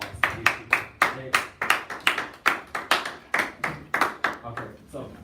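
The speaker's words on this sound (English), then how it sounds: "Y'all give him a round of applause." A small audience at a church message claps for Moshe in a rhythmic, evenly spaced beat of sharp hand claps, fairly close and repeated steadily for several seconds.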